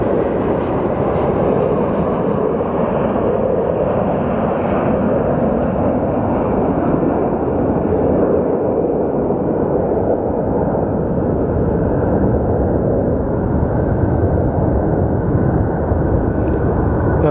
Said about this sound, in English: Those American planes take forever to take off.